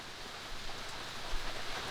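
Rain falling during a day of heavy storms in the countryside, a steady, faint hiss of drops without a break and no voices.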